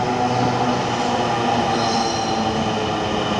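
Interior of a metro rail train running, a steady loud rumble with wheel hiss and a faint high squeal, continuous and even throughout.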